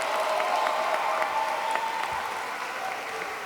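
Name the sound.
audience applause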